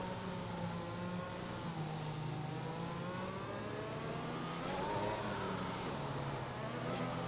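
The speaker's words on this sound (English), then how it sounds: "you can just about hear the Aston Martin V8 engine" Aston Martin V8 engine in a racing game, a buzzing engine note rising and falling through gear changes, moderately distant under continuous game ambience.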